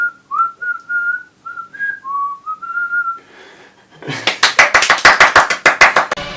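A person whistles a short, wavering melody in clear separate phrases, then rhythmic hand clapping takes over in a fast, steady run of claps.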